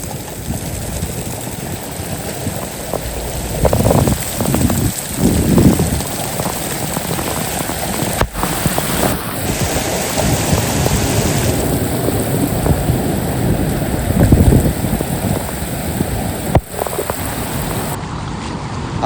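A heavy downpour pours with a loud, continuous rush of water flowing nearby, steady throughout with a few brief knocks and swells, and no voices.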